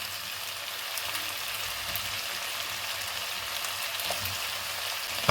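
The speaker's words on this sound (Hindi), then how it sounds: "इन्हें भी हम चिकन के साथ अच्छे से भून लेंगे" Potato and carrot cubes fry together with chicken in a pan for a stew, giving a steady, fairly loud sizzle that runs evenly throughout, with a brief scrape near the end and no voices.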